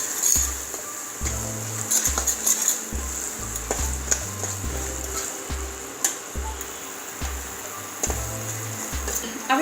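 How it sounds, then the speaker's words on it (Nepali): Cumin and coriander powder masala fries in hot oil in a pan, a steady close sizzle with repeated stirring scrapes, while soft music plays underneath. "मसलालाई एकछिनसम्म तेलमा भुट्छौँ यसरी।"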